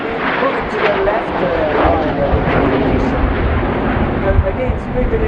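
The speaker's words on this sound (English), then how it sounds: "this is the tail slide of solo pilot of Frecce Tricolori" Italian Air Force Frecce Tricolori jets fly an aerobatic display at RIAT 2019, with a loud, continuous roar of jet engines under a public address commentator.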